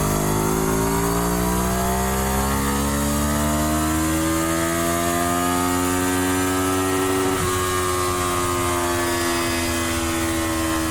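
A hybrid gas-electric motorcycle engine on a dyno revs loudly and steadily higher under load with electric boost, pitch climbing smoothly, then backs off as it winds down.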